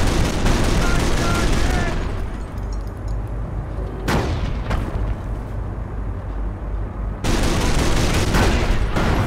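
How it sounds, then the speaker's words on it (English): Machine gun fire in the Company of Heroes Normandy invasion battle at Montebourg, loud sustained bursts of automatic gunfire broken by a few heavy artillery booms, with game voices in the mix. "Shut out that MG now, ASAP."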